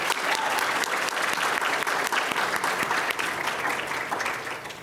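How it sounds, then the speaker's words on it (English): A conference audience breaks into loud, close, crisp applause for a community manager during opening remarks, holding strong before tapering off near the end. "So a round of applause for her."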